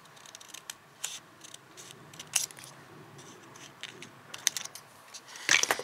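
Scissors make a series of crisp, irregular snips while trimming pieces for a handmade rosette decoration, ending in a louder cluster of cuts near the close.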